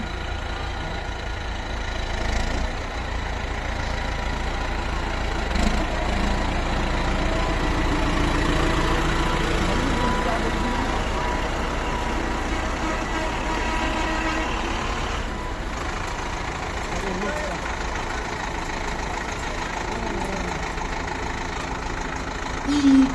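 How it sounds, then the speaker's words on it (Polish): A heavy Zetor Forterra 115 tractor engine rumbles steadily at idle at a harvest festival, low and constant, with faint background noise and no speech over it. "kolejny ciągnik, tym razem Zetor i jest to Zetor Fortera 115"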